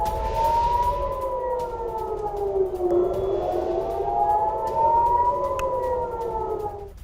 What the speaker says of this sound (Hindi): तेल अवीव में लगातार सायरन गूंज रहे हैं।